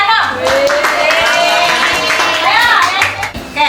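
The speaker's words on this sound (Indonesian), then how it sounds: "tepuk tangan dong" An audience of children at a Ramadan religious lesson claps in a quick burst of scattered hand claps that runs throughout, mixed with lively voices talking and calling out.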